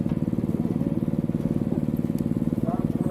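A racing lawn mower's small engine drones steadily with a rapid, pulsing rhythm as it drives around a circuit, the sound close and continuous, with a person talking faintly over it.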